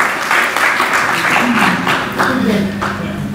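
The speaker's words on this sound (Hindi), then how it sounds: "सबसे पहले अपने लिए भरपूर तालियां बजाएं।" Audience applause fills a hall at a talk, with dense clapping throughout and voices mixed in.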